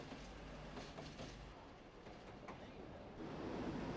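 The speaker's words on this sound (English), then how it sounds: "The workers' train from Inchicore to Kingsbridge Station is hauled by Deutz Diesel G613." A workers' train hauled by a Deutz diesel locomotive runs on 1960s Irish railways from Inchicore toward Kingsbridge Station. The rumble and rail noise are faint and continuous, growing slightly louder near the end.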